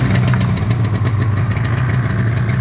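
A Yamaha RD350 LC F2 two-stroke motorcycle with 13k miles runs from a cold start on choke, a loud, steady, close buzzing idle that holds throughout with no one speaking.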